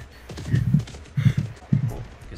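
Horse hooves clopping in the Second Life video game, three short bursts of two or three hoofbeats each, close and moderately loud, with no talk over them.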